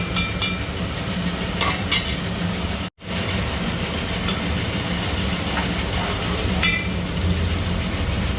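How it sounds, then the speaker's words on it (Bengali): Steady sizzling of onions frying in a pan for a kasuri methi chicken dish, with occasional stirring scrapes and a brief dropout partway through. "পেঁয়াজটা ভালো করে ভাজবো"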